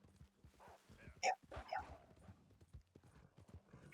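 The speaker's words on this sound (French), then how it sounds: "Et on descend la montagne à cheval." Horse hooves clip-clop in Red Dead Redemption 2 as a horse is ridden down a mountain, a few quiet, uneven hoof knocks with soft background noise.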